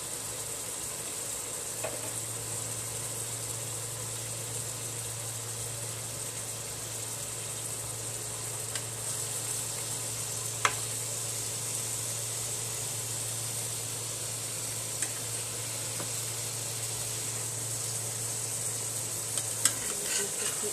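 Koi fish wrapped in gourd leaves with spiced onion fries in a pan, giving a soft, even sizzle that runs the whole time over a low hum, with a few faint clicks and taps.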